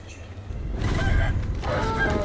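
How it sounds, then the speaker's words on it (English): Chickens clucking in the video game Sekiro: Shadows Die Twice, a steady, moderately loud run of fowl calls lasting the whole moment, with no talk over it. "Oh, chickens everywhere."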